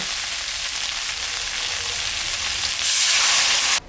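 Water poured into spice masala frying for a prawn and fig curry: a continuous close sizzle that surges into a loud hissing burst near the end, then cuts off abruptly.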